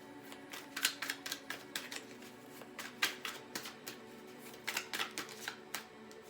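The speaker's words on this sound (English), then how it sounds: "let's grab some index cards before we wrap" Index cards being shuffled and riffled in a quiet room, a run of soft, crisp flicks and taps in irregular bursts, fairly faint, with no talking.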